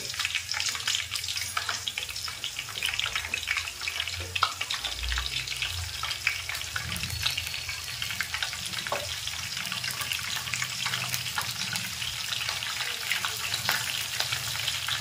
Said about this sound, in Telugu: జీలకర్ర వేస్తున్నా, నూనె వేడైంది.